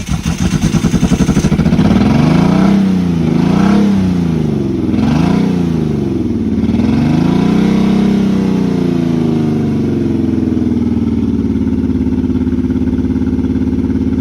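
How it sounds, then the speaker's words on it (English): A car engine with an exhaust problem runs loud and uneven, its pitch wavering up and down in rough surges before settling into a ragged, steady drone. "Sounds like we have an exhaust issue."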